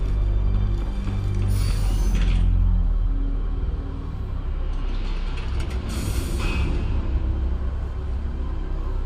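Heavy mechanical rumbling and clanking of an elevator moving through a shaft in Mass Effect, a loud steady drone with rattling surges and metallic swells.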